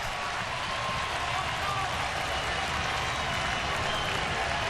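A baseball stadium crowd at a Cubs–Phillies game, lively after a rain delay, applauds in a dense, even roar of clapping and cheering that holds steady throughout.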